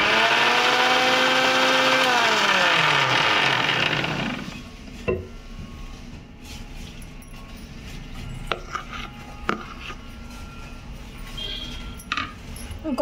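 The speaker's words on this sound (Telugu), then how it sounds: "షుగర్ పౌడర్ కొంచెం కొంచెం యాడ్ చేసుకుంటూ మళ్ళీ మిక్సీ పెట్టుకోవాలి" An electric mixer grinder whirs loudly as it grinds sugar into powder, its motor whine winding down after about four seconds, followed by quieter clinks and faint handling sounds.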